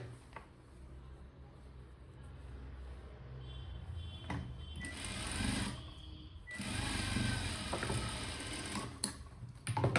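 A sewing machine stitches a hook strip onto blouse lining, with bursts of whirring mechanical running separated by quieter pauses and handling clicks, close by and moderately loud.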